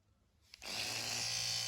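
An electric toothbrush switches on in slow mode with a faint click, then buzzes steadily and closely for the remaining second, a continuous high whir with no speech.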